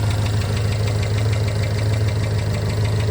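A 1958 Dodge with a 383 big block V8, Holley Sniper EFI and electronic distributor runs at a steady idle, with a low, even rumble and no talk over it.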